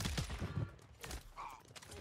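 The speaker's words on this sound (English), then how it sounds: "And there's a dude shooting me in my butt." Gunfire in Warzone 3 on Rebirth Island, several quick bursts of shots up close at the start, then thinner scattered shots, mixed with brief game noise.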